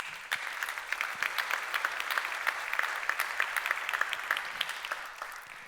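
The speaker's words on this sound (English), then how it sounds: "I think this is worth applause." Sustained applause from a conference audience at an additive manufacturing event, a dense wash of many clapping hands with sharper individual claps popping out, holding steady throughout.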